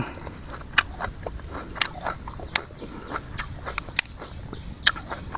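Crisp biting and chewing of fresh lotus stolon, sharp crunchy bites at irregular intervals, about seven distinct snaps over softer chewing, close to the ear with no talk.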